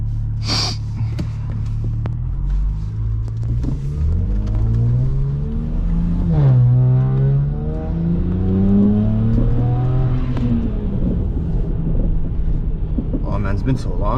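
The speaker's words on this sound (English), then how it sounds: "the exhaust was just changed recently, so it sounds a bit different than from what I used to have it as" A car engine with a recently replaced exhaust drones loud and close, its pitch sweeping up and down as it revs and accelerates, with breathy vocal sounds over it.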